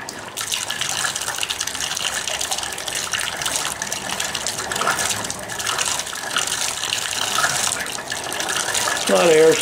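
Hot water mixed with trapped air gushes from a bathtub faucet fed by newly installed PEX lines, a loud steady rushing that swells slightly toward the end.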